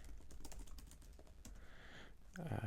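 Typing on a computer keyboard, a quick run of soft clicking keystrokes close by at low level, ending with a slightly louder clatter of keys.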